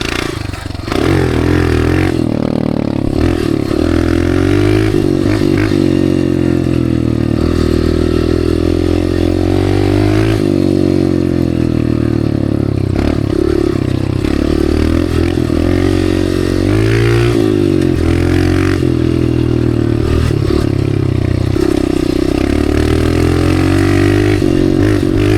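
Dirt bike engine and exhaust run loud and close while riding through loose desert sand, with sustained revving and shifts in pitch as the throttle rises and falls across the whole stretch.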